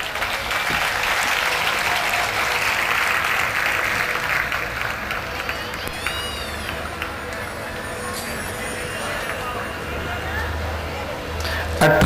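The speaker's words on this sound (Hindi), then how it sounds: "जोर से ताली बजाओ" Audience applause at a Gita shloka recital in Kartar Nagar, Delhi: sustained, dense clapping from a large crowd, steady and loud throughout, with a brief louder burst at the end.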